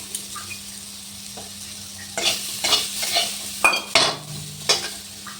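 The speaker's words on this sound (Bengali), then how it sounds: "আমি এইরকম একটু ভাজা ভাজা করে নিলাম।" Chicken pieces sizzling in a pan, quiet at first, then stirred with several scraping, clattering strokes over the steady frying hiss, close and without talk.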